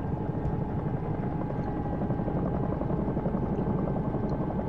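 Simulated Bell 222 helicopter in X-Plane 11 lifting off, a loud, dense rotor thump and turbine drone holding steady and close throughout, with no talking.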